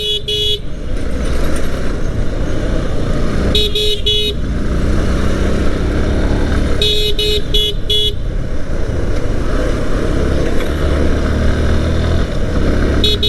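Continuous road traffic with a motorcycle engine running steadily, broken by several short bursts of honking horns nearby.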